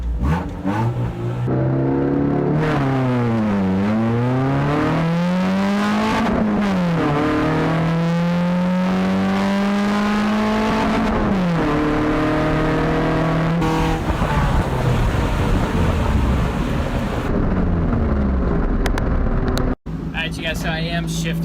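Hard acceleration run in a 90s Honda Civic on sporty 300-treadwear street tires: the engine climbs loudly through the revs in repeated rising sweeps, dropping at each gearshift, with speech heard faintly over the engine noise.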